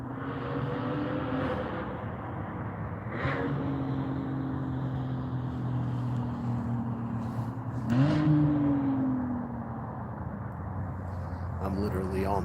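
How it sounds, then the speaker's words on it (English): Cars driving along the road on top of Percy Priest Dam, engines humming and rising in pitch as they accelerate past, several passes at moderate distance under steady background noise, with a person talking over them. "y'all might hear these people's cars running by"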